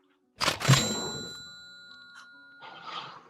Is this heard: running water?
no